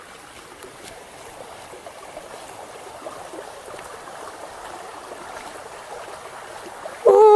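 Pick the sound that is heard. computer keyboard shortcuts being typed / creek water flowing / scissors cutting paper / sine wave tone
creek water flowing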